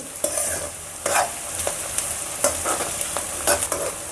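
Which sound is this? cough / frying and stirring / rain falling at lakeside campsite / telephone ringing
frying and stirring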